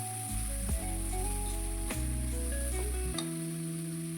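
Tomato masala roasting in a pan for vegetable biryani gives a continuous, close sizzle, broken by a few stirring scrapes and knocks of a spoon against the pan.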